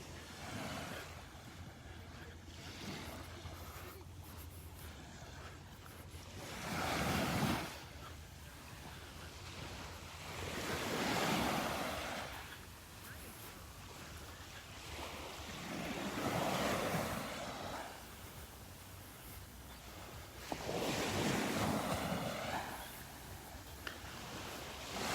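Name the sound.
small ocean waves rolling onto the beach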